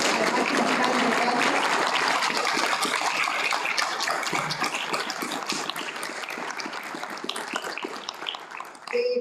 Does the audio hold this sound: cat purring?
no